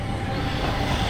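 Inside a passenger coach on an Egyptian train, a steady loud rumble of wheels on rail fills the space with a continuous rolling roar and no speech.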